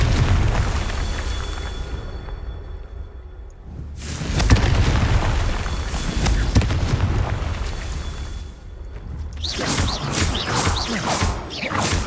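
Confringo blasting spells exploding in Hogwarts Legacy, a series of deep booming blasts with crackling debris, loud and close, several bursts separated by brief quieter gaps.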